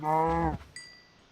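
A cow moos once in the video game Minecraft, a short, loud, low lowing call near and alone, followed by a brief faint chime.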